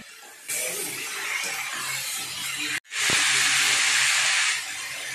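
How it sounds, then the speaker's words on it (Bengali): Chicken pieces frying in hot white oil in a wok give a loud, steady sizzle that stops briefly, then returns louder and more intense for a couple of seconds before cutting off. "প্লিজ চিকেনটাকে ভাজছি আগে, ভেজে নিই চিকেনটাকে।"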